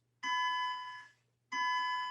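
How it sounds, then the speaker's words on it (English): An elementary school alarm rings in two loud electronic bursts, each a steady bright tone lasting about a second, separated by a short gap, with a low hum underneath. "you hear their alarm"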